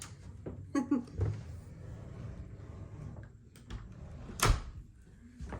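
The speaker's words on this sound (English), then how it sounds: "And we're going to close the door." A few soft knocks and clunks, then one sharp bang like a door shutting, amid quiet room noise.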